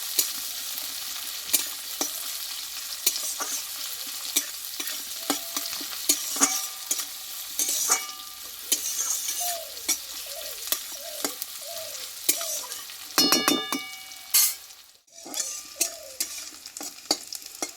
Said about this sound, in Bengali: এবার এই রসুন আর এই পেঁয়াজটা আমি তেলে ভালোভাবে ভেজে নেবো